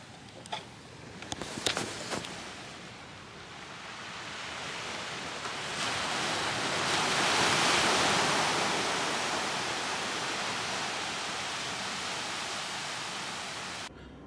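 Broad surf wash on a beach at a Thai beach club, steady and fairly close, swelling gradually to a peak midway before easing slightly, with a few brief knocks near the start and no voices.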